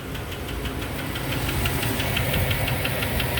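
A steady, rapid lifter tapping rides over a warmed-up 5.3 engine's low idle rumble, constant and close, with no voices.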